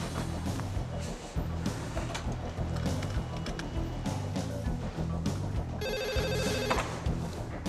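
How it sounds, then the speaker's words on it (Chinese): An office telephone rings in a repeated electronic trill, steady and fairly close, over a busy background of movement and clatter. No speech is heard. "胜哥找你的电话。"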